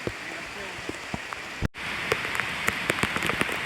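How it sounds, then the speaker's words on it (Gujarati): Heavy rain pours down in a jungle on a waterfall trek, a dense steady hiss of drops striking leaves and ground with scattered sharper patters, continuous and loud, briefly cut out midway. "ફૂલ વરસાદ."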